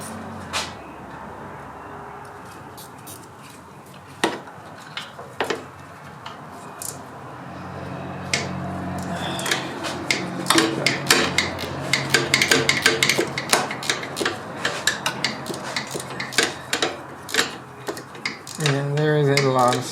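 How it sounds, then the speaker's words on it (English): Ratchet wrench clicking as it turns on the front strut of a 4WD Toyota 4Runner, a dense run of quick close metallic clicks growing busier and louder in the second half. "Now I'm going to try my ratchet wrench."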